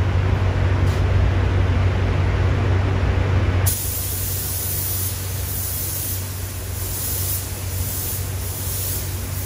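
A paint spray gun lays a final blend coat on a BMW, giving a loud, continuous close-up hiss that drops slightly in level and changes tone partway through, with no voices.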